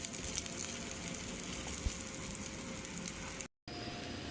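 Beef sizzles steadily as it browns in a hot pan for a beef and broccoli stir fry. The frying hiss is continuous and close, with one brief dropout near the end.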